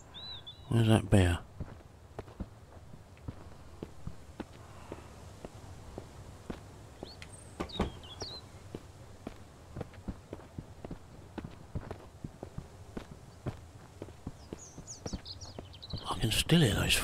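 Footsteps in the Mist Survival game tread in a steady stream of soft thuds across the ground, with occasional birdsong and brief bursts of a voice at the start and end.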